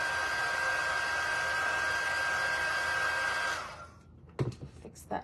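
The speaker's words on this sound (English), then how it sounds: "I'm just using my dryer." A handheld craft dryer blows air over a painted Santa gnome cutout in a steady, close whir for a few seconds, then cuts off and is followed by a couple of light handling clatters.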